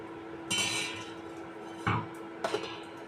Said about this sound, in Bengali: এবার ঢাকা খুলে দেবো।